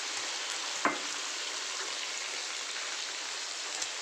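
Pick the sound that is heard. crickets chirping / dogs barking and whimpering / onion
onion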